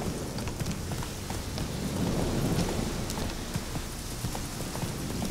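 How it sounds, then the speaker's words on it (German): A stormy scene in The Witcher 3: steady rain hissing over a wide band with scattered sharp ticks and low rumbling, continuous and fairly loud without talk. "Es zieht wohl ein Sturm auf, hä? Und Regen."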